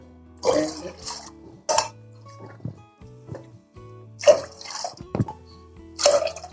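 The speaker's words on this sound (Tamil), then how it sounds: "குக்கர் வச்சு நம்ம தண்ணி வச்சுக்கலாம் நாலு டம்ளர் ஊற்றிக்கலாங்க" Water is poured by the tumbler into a pressure cooker for millet vegetable porridge, heard as several short splashing gushes separated by quiet pauses, close and clear with no speech.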